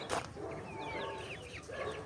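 Chickens clucking softly in a coop, with scattered short calls over a low, steady background.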